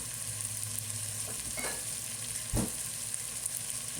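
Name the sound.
chicken adobo frying until brown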